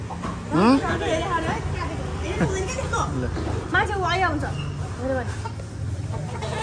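A rooster clucks in short bursts close by while several people talk and chatter over it.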